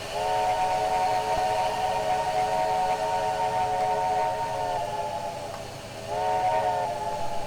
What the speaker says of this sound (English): Should be the same whistle.